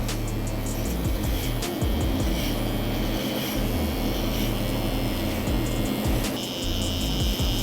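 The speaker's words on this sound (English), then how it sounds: "We want to remove the bulk with the same trimmer." Hair trimmer, not zero gap, cutting bulk from curly hair during a low fade, buzzing loudly and continuously close up with scratchy rubbing strokes throughout.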